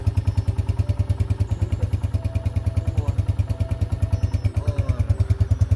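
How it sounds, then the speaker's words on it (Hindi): A 2022 Honda CG125 SE motorcycle engine runs at a steady idle nearby, with a loud, even thumping pulse throughout and light mechanical clatter, no voices. "ये इंजन की साउंड है"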